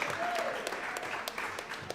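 Audience clapping at a high school football spotlight event, a steady patter of hands throughout, moderately loud with some individual claps standing out.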